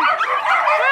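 Dogs give a brief burst of high, yipping barks, close and lively, lasting under a second.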